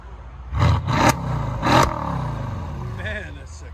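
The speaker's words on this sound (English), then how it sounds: "You can hear the turbo spinning up." A Mercedes CLS 63 AMG biturbo V8 with a custom exhaust gives several short, loud revs that ease into a low rumbling idle with a faint rising turbo whir, while people talk nearby.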